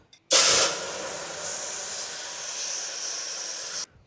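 Ghee sizzling as it hits a very hot pan on high flame, with cashews frying: a loud burst of hissing that settles into a steady, close crackling sizzle for a few seconds, then cuts off.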